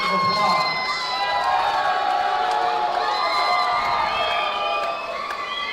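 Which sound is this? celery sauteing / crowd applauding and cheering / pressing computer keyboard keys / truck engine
crowd applauding and cheering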